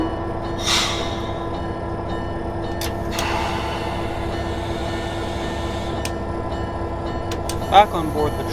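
A passenger train runs on rails on a heritage line. It gives a steady, continuous rumble with a few brief squeaks and one sharper clank near the end, and no one speaks over it.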